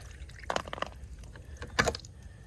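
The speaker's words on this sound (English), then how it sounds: "Drain any water that's in this line." Water drains from an underground sprinkler line with a few short gurgling, splashing bursts, close by and fairly quiet, over a low background rumble.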